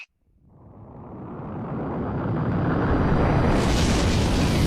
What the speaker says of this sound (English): our entire universe was born in the Big Bang